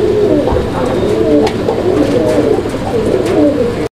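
A male pigeon, one of a pair of fancy pigeons kept for sale, coos repeatedly up close in rolling, throaty phrases, with faint background noise and brief clicks.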